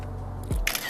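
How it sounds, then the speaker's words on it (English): A Meta device's camera shutter clicks near the end, a brief, close mechanical snap that comes after a quiet stretch and a soft tone, with no talk. "there's this click of the shutter"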